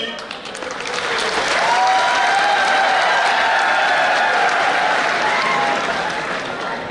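A crowd at a rally breaks into sustained applause, loud dense clapping with some cheering that swells and holds for several seconds before easing slightly, with a voice audible underneath.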